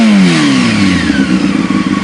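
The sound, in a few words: motorcycle engine revving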